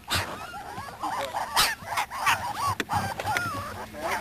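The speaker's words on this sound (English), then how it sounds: "These are Ivory's little puppies" Several puppies whimper and yip close by, high wavering cries overlapping in a busy, restless chorus.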